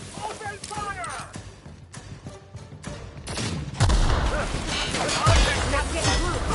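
Gunfire crackles in The Outer Worlds video game, with bursts of shots and impacts that build from scattered fire into a louder, denser fusillade, mixed with character voices shouting in the game.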